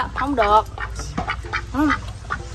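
Duck quacking in two or three nasal calls close by, mixed with people talking over and between the quacks.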